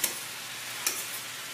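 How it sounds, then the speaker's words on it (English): Vegetables sautéing in a couple of tablespoons of oil in a pan, a soft steady sizzle with two brief stirring scrapes, close and alone. "just put a little bit of oil, a couple of tablespoons, just to saute the vegetables"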